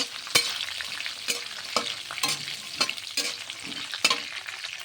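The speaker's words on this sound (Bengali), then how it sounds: "এই তেলের মধ্যে আমি কাজু বাদাম আর কিশমিশগুলো দিয়ে একসঙ্গে ভেজে তুলে নেব" Cashews and raisins frying together in hot oil, a steady close sizzle broken by sharp scraping stirs of a spatula every second or so, with no voices.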